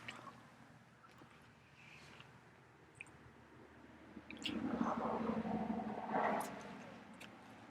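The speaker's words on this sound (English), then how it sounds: "Last bite of the crunchy double." Someone eating the last bite of a McDonald's Crunchy Double burger, with faint mouth noises at first and then louder, close, wet chewing and squishing sounds toward the end.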